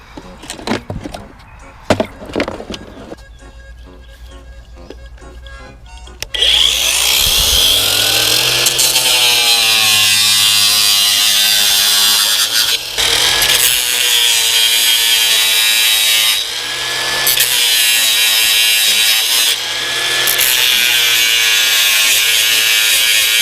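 A drill with a small bit boring at a farm while the barrel filter is being cleaned: a few knocks and clicks, then a loud, steady high-pitched whir running close for most of the clip with brief dips.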